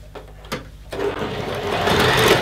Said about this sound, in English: you first start sewing, you've got to go backwards and forwards to close the seam